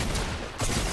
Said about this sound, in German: Ich schieße den noch mal kurz an.